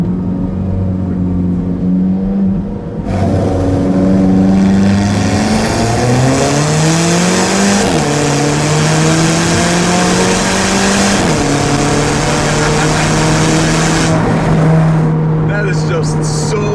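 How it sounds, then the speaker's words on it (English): A 2015 Alfa Romeo 4C engine revs hard and climbs through the gears, turbo whine rising, with a sharp downshift blip near the end; loud and close throughout. "that turbo sound is just perfect."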